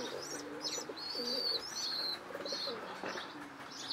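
Soft coos from racing pigeons repeat at a distance, mixed with scattered high chirps and faint rustling.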